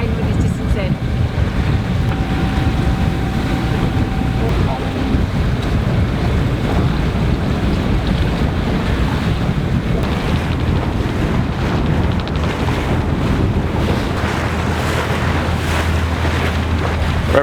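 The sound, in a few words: sailboat on autopilot in light wind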